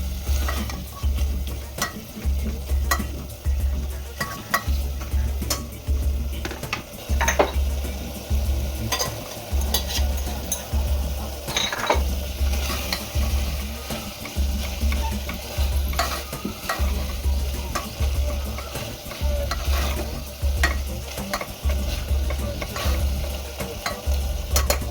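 Spices being sautéed in a pan, with a steady sizzle and a regular rhythm of stirring and scraping that repeats about twice a second at close range, with no talk.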